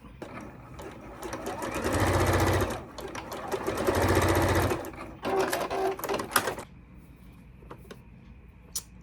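A sewing machine stitches a small doll dress for a Monchhichi toy, running in two loud sustained bursts and then a shorter one, separated by brief pauses and handling clicks before quieting.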